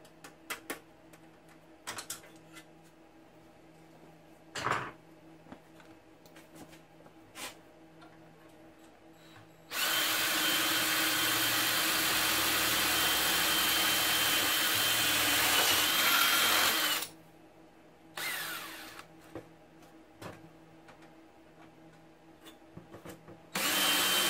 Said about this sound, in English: Let's go ahead and remove this fan and finish drilling.